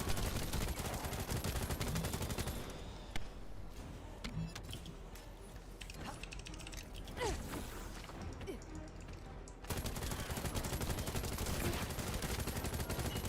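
Hip-fire gunfire in the game The First Descendant, played on hard mode, with dense, noisy bursts of shots, a quieter stretch with scattered impacts in the middle, then loud continuous fire again; a voice may be heard under the action.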